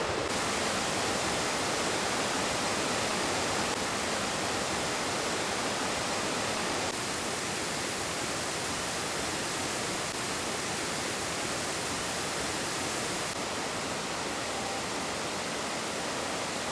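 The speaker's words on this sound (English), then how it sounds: "Well, you can definitely hear the falls." A waterfall in Michigan's Upper Peninsula roars in a steady, dense wash of broadband rushing water, loud and unbroken from start to finish with no voices over it.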